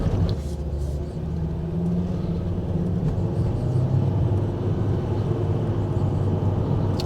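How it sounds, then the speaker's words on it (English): A Volvo V70 (P2) with an automatic gearbox drives along, its steady low engine and road rumble holding constant throughout, with no clear shift points standing out. "Seems to be changing up through the gears nicely so far."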